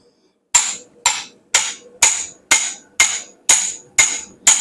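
Hammer striking hot steel while opening the eye of a forged tomahawk head, nine evenly spaced ringing blows about half a second apart, loud and close with no talking.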